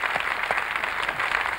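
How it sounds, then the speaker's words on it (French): Studio audience at a French television show applauding, dense continuous clapping from many hands, fairly close and steady throughout the short stretch. "on peut vous applaudir pour ça"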